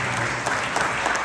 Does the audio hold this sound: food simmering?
no